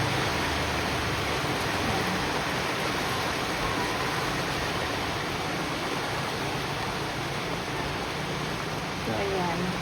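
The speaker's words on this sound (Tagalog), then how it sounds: "Wala, lalong lumakas yung ulan." Heavy rain pours steadily onto a garden of potted plants, a dense, continuous hiss filling the whole clip at constant loudness with no breaks.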